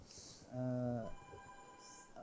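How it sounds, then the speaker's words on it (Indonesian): A telephone rings with an incoming call during a live Islamic economics Q&A broadcast, a single loud electronic ring tone burst with higher chiming tones afterward, standing alone without talk. "Sepertinya ada telepon yang masuk lagi Ustadz."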